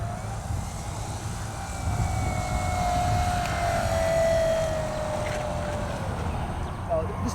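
An XR-52 RC model airplane comes in to land, its motor whine holding a steady pitch that swells slightly in the middle before easing, while someone talks over it throughout.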